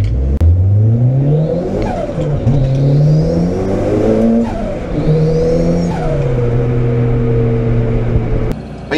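A lightened Toyota Corolla sleeper with a turbocharged 3S-GTE engine accelerates hard through repeated gear pulls, its rising engine note climbing and dropping at each shift, loud and close throughout.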